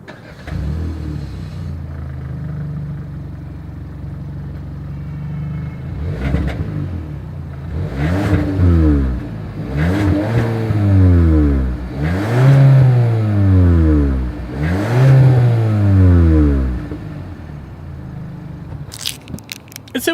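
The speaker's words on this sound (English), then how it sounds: "As always, here is that exhaust clip." A 2021 Hyundai Sonata sedan idles, then revs up repeatedly in several rising and falling bursts, the exhaust roaring loud and close, before settling back down.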